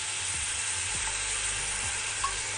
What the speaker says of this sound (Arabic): بصل هنا بيتشوح